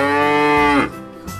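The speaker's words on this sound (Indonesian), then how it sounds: "ternyata ada sapi juga teman-teman." A single cow moo with a long, steady tone that rises and then drops away, loud and close, likely from a toy cow, with no talk around it.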